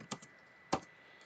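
A few quick keystrokes on a computer keyboard while typing Japanese, heard as close, soft isolated clicks in a quiet room, with no talking.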